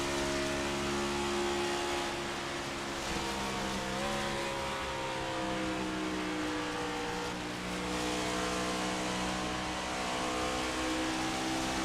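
Stock cars racing at Texas Motor Speedway in a sim racing series, several engines droning loudly together with rising and falling pitch as they run in a tight pack, continuous throughout.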